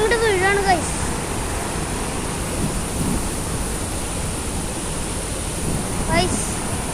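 Heavy water pours down in a steady, loud roar like a waterfall amid strong wind and rain, continuous for the whole stretch, with a brief high whistle near the start and again near the end.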